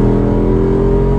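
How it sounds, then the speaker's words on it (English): A Jeep Wrangler 392 V8 revs hard with its loud exhaust mode engaged, a dense, deep, close-up roar that holds steady throughout the short burst, with no talking. "I want to push this button that makes the exhaust really loud"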